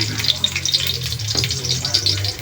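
Garlic frying in a pan gives a steady, close sizzle with a continuous hiss and faint crackles that hold evenly throughout.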